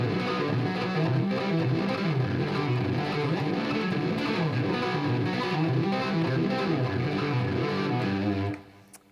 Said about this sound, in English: we're going to string together the first arpeggio shape that I showed you starting on the low string